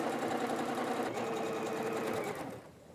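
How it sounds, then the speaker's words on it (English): A sewing machine stitches quilt block sections together in a steady, fast mechanical whir with a busy rhythmic clatter. It runs continuously and close, then slows and winds down near the end, with no talking. "We're going to sew these last 2 sections together, press them open, and sew the block together."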